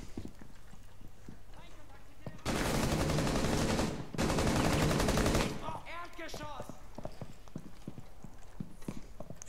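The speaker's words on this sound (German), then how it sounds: "Von wo schießt der?" Rainbow Six Siege gunfire sounds in two loud sustained bursts of rapid automatic fire, briefly broken by a pause, over quieter in-game footsteps and clatter with someone speaking German.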